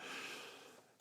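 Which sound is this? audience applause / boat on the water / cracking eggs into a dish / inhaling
inhaling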